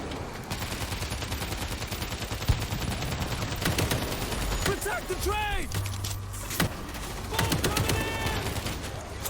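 Gunfire from the zombie shooter World War Z rattles in bursts through the fight, mixed with other game effects, while players talk excitedly over it.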